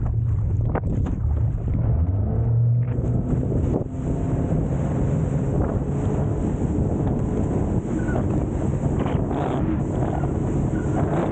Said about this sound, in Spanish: Voy a salir a planeo para que vean qué rápido y qué bien lo lleva este motor esta lancha.